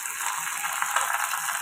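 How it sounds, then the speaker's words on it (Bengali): Curry leaves crackling and sizzling in hot oil as they are stirred, a steady close bright fizz for tempering Telugu-style arhar dal. "এই দেখো একটু কারি পাতা তেলের মধ্যে দিলাম, একটু নাড়াচাড়া করে"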